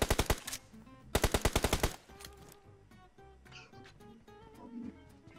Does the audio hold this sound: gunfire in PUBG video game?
yes